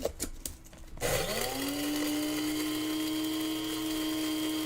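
An electric grinder chopping gathered leaves for homemade incense: a few rattling knocks, then the motor spins up into a steady, loud, high whine that holds evenly to the end.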